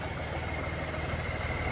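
A diesel tractor engine idles nearby, a steady low rumble with a constant even drone and no change in pitch or speed throughout.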